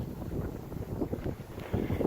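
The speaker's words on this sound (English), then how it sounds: "that wind is bad" Strong wind gusting across the microphone on a winter hike in Garden of the Gods, Colorado, a low continuous buffeting roar that swells and surges unevenly throughout, with no voices.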